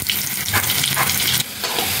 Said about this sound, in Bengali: কড়াইতে তেল দিয়ে দিচ্ছি আলু ভেজে নেব